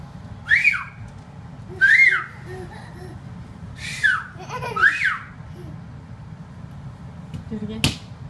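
A small child whistles in four short, breathy bursts spread over several seconds, each a brief rising-and-falling tone over low background hum, with faint nearby voices between the attempts.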